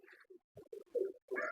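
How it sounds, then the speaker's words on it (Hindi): A female Ferozpuri pigeon crossed with Teddy coos in short, soft, low bursts. The calls are close and clear, with brief gaps between them, and no talk is heard. "ये इतनी प्यारी कबूतरी है। ये फिरोजपुरी और इसमें टैडी क्रॉस है।"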